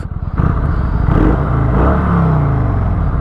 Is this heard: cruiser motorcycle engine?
yes